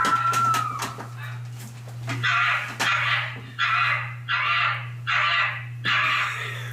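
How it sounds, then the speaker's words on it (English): An animal gives a string of short, bark-like calls, about five evenly spaced bursts close by, over a steady low hum. "No, they just sound like barks."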